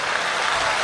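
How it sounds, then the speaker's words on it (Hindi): Audience applause fills a hall at a Dubai mushaira poetry gathering, a dense, steady wash of many hands clapping at once, loud and continuous throughout without any voices. "पूरे हॉल में तालियों का एक सैलाब दिखाई देगा आपकी ओर से"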